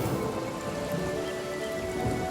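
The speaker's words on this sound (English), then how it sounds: "So I'm using my rain scroll that I saved from the tutorial" A rain scroll cast in the video game Divinity: Original Sin, steady rain pattering on surfaces in a dense, even hiss with a faint low rumble beneath.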